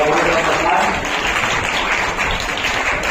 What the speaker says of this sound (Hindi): तो तालियां बजती रहनी चाहिए